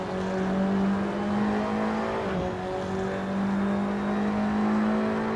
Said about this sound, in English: This is Tomáš Korený trying to find his way past Joachim Gallage for 5th